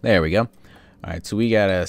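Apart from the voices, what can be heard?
No everyday noises stand out.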